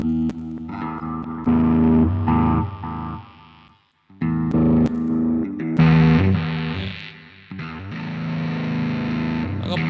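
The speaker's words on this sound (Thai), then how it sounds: "เดี๋ยวให้ดูโหมดภาคเสียงแตกมากนะครับ" Heavily distorted electric guitar through a Line 6 Spider V 30 amp's distortion mode, chords and riffs thick and saturated with a short pause midway, no talking.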